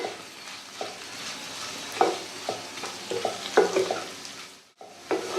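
Chillies sautéing in a pan with hing, turmeric and ground masala, giving a soft continuous sizzle broken by repeated scraping stirs of a spatula, close and fairly quiet.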